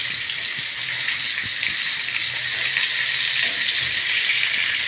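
Steady running water splashes and hisses continuously, close by, like a small stream poured into a pan of leftover spice masala for stuffed brinjal curry, with faint kitchen clatter underneath.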